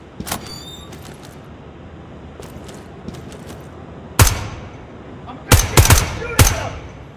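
Gunfire in the tactical shooter game Ground Branch: a few scattered sharp shots, with a louder single report followed by a quick cluster of three cracks over quiet ambience.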